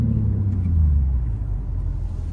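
BMW G80 M3 Competition idling and rumbling close by in a Miami car meet spot, a deep steady low engine drone with slight swells, no talk.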